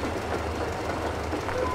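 Rail car engine in Metro Exodus, a steady mechanical rumble with a faint rhythmic clatter, heard at a distance for a brief moment.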